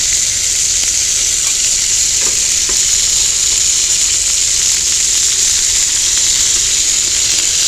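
Hamburger steak sizzles on a cast iron griddle with potatoes, a loud, continuous bright frying hiss that stays steady throughout, close up, with no talking.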